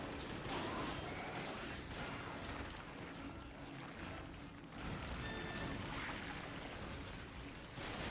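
Gunfire from the video game Resident Evil 5, a dense and continuous wash of shots and noise that stays at an even level throughout, with no talking over it.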